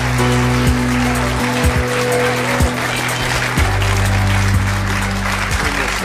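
French TV studio audience applauds a celebrity's dog as it joins the set, a steady wash of clapping layered over a loud musical jingle with sustained low tones throughout.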